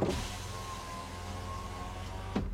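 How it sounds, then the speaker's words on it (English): A car's power windows being lowered, heard from inside: a steady electric motor whine held evenly for a couple of seconds, ending in a soft thunk, fairly close and quiet. "I'm going to lower the windows"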